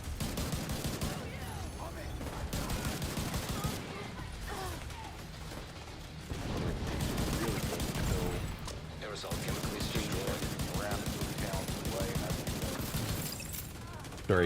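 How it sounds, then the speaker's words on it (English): Bursts of rapid gunfire and mechanical clatter from a game come in several waves, with brief lulls between them. "Sorry, I couldn't hear you over my gunfire."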